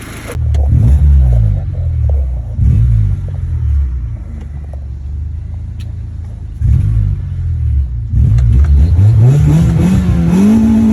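A 1994 Honda Civic engine, just back together after a head gasket replacement, cranks and catches, then runs with loud rumbling revs that rise and fall, dropping back to idle before a final long climbing rev.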